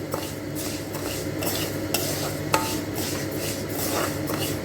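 Lentils stirred in a pan after the heat is turned off, giving a continuous scraping stir with soft metallic clinks and a faint sizzle, close and steady, with no voices.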